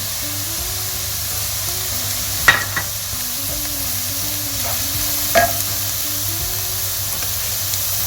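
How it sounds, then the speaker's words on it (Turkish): Onions and leeks fry in a pan with a soft continuous sizzle, punctuated by a few sharp scrapes and taps of a utensil stirring them, under a low steady background hum. "Önce soğanımızı biraz kavuralım. Pırasalarımızı da koyalım."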